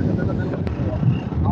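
Cool wind in the hills near Hasanur at night buffets the microphone as a constant, loud, low rumbling roar.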